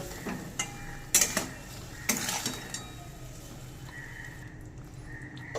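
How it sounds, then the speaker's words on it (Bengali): Turmeric and chili powder are stirred into potatoes and taro in a pan, with a few loud scrapes and clanks of a spoon over a faint, low sizzle and no talking. "মশলাটা এবার সবজির সাথে মিশিয়ে নেব"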